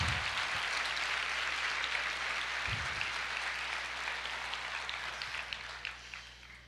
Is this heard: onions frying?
no